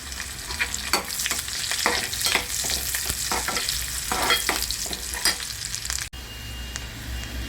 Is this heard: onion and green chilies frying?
yes